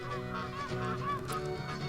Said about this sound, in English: The Canada goose is a member of the black geese